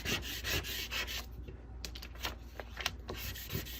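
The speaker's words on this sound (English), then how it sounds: "Gonna burnish" Rubbing strokes of a burnishing tool over glow-in-the-dark vinyl covered with matte transfer tape, a close, dry rasp in short repeated passes with brief pauses between them.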